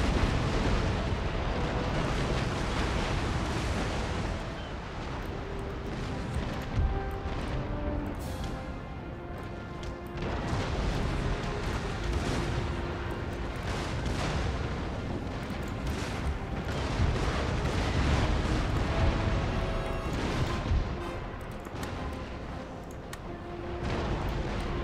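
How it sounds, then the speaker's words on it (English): Repeated cannon broadsides thunder from warships in a large naval fleet battle in Empire Total War, heavy booming volleys rolling over each other almost continuously with dense rumbling between the blasts, no voices. "Blast a broadside off."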